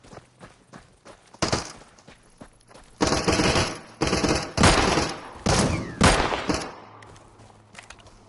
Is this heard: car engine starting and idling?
no